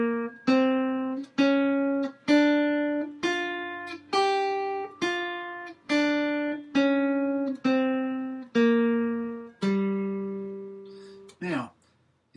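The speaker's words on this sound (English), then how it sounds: "The blues scale sounds like this." A guitar plays the blues scale one note at a time, about a dozen evenly spaced plucked notes that each ring and decay, stepping through the scale, clear and close with nothing else behind them.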